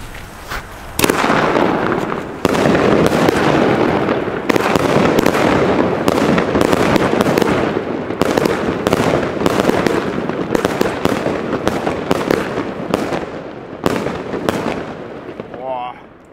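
A Blackboxx firework battery (cake) fires a rapid, loud barrage of cracking bursts and pops that goes on almost without a break, with voices heard now and then.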